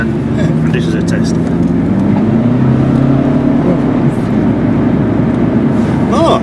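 A car running on LPG accelerates hard, its engine rising in a loud, close, sustained roar with pitch climbing through the gears, as a voice speaks near the end.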